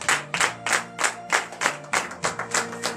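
A church congregation at a morning prayer service in Benin claps in acclamation, loud rhythmic group clapping in regular bursts with a resonant musical hum underneath.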